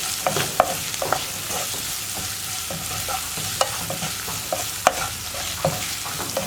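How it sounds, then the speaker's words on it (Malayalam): Sliced onion sautés with salt in a pan, giving a continuous sizzle broken by sharp spatula scrapes and taps at irregular intervals, close and fairly loud. "ഉപ്പ് ചേർത്ത് കഴിയുമ്പോൾ സവോള വേഗം വഴന്ന് കിട്ടും."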